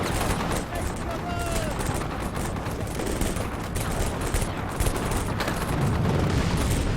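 Troops firing in the wargame Combat Mission Shock Force 2, dense rattling bursts of gunfire and distant booms forming a constant battle din, with someone talking over it.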